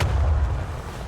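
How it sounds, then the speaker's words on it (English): A macro cannon fires in the Warhammer 40,000 game Rogue Trader, one loud, heavy boom that hits at once and rumbles away over about a second, with no speech. "Macro cannon, open fire!"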